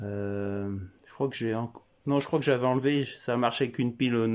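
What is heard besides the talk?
No everyday noises stand out.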